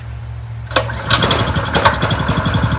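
A Manco Black Fox go-kart engine coughs into life and runs at half choke, a close, loud, rapid putter with a fast, uneven pulse after a brief quiet idle-free start.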